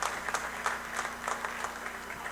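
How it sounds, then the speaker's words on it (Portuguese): A church congregation applauds during a sermon, soft rhythmic group clapping with a regular beat, heard faint and somewhat distant. "aplauda o Senhor, meu irmão, agradeça a Deus"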